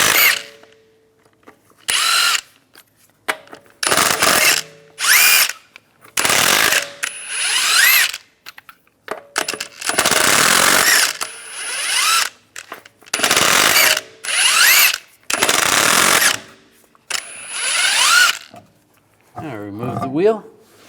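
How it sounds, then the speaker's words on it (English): A power tool spinning a 22mm socket to remove the lug nuts from a Cadillac SRX front wheel, heard as repeated short bursts of whirring and ratcheting with pauses between them. "I'm going to remove the wheel using a 22mm socket."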